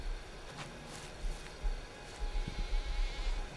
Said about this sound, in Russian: На блеяние надо идти.